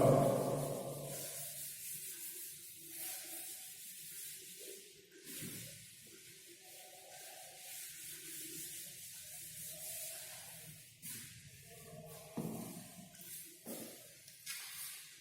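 A duster or cloth rubs writing off a classroom board in soft, uneven scraping strokes that repeat across the stretch, faint and close, with no talking over them.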